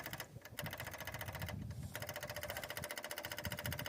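A fuel pump on a motorcycle fitted with a new PZ30 carburetor ticks rapidly and steadily after the ignition is switched on, a fast mechanical clicking heard close and alone.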